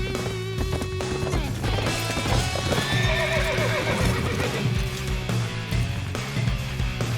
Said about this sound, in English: The best horse in all of Warriors history.